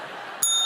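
A bell marks the end of a speaker's time in a debate, a single bright ring with a sustained high tone that cuts in suddenly over a low room murmur.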